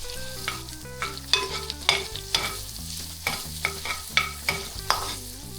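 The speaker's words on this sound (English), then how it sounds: "So what I want this to do is to cook the onions." Onions fry in a pan with a bright, close sizzle, punctuated by a regular series of clattering stirs and scrapes of the spoon against the pan.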